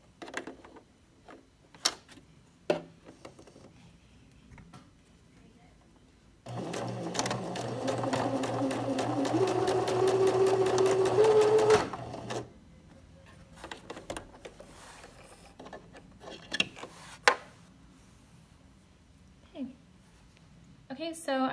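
A sewing machine stitches the second side of a folded fabric welt for a welt pocket at a 1/4 inch seam allowance, running steadily for about six seconds in the middle, with quiet handling sounds before and after.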